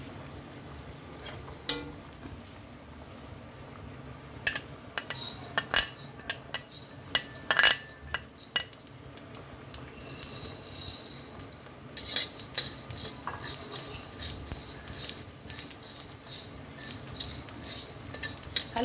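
Utensil stirring coriander, fennel, fenugreek and yellow and red mustard seeds dry-roasting in a wok for amla pickle, with steady scraping and clinking of metal, light rattling seeds, and sharper clanks now and then.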